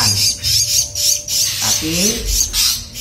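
A Javan myna squawks close by in loud, rough, repeated bursts at a quick irregular pace, while someone talks briefly over the calls.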